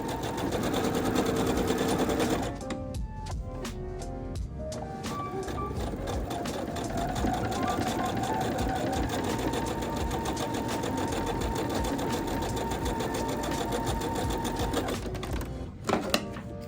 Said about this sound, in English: You do that by sewing a 1/4 inch from the edge.